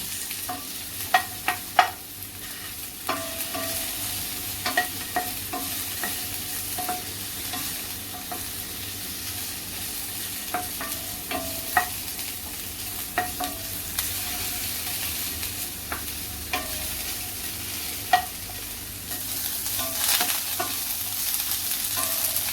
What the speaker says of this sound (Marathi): खमंग भाजून घ्यायचं आहे आपल्याला